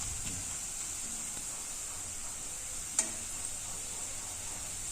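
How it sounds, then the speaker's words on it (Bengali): Raw onion dropped into a pan of oil with bay leaf, cardamom, cinnamon and cloves gives a soft, even sizzle and hiss, broken by one sharp knock of a utensil near the middle, with no talking. "তারপর কিছু কাঁচা পেঁয়াজ দিয়ে দিলাম,"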